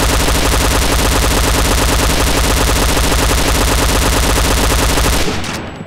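Rapid continuous automatic gunfire from a test-fired gun, loud and close, a dense unbroken burst of shots lasting about five seconds before cutting off with a short fading tail.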